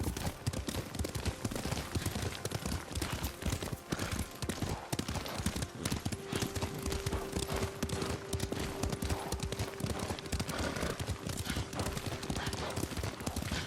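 Steady clip-clop of horse hooves at a trot in the video game Ghost of Tsushima continues throughout, with dense background noise and a faint sustained tone partway through.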